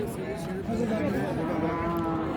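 Cattle low and moo at the busy Raniganj livestock market in Dinajpur, where Friesian cows and calves are sold, overlapping with a crowd of voices chattering close by.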